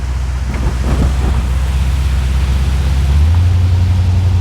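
A Chevrolet Corvette C4 engine with an automatic gearbox pulling under throttle, a deep steady rumble largely buried in loud wind noise, its tone stepping up partway through.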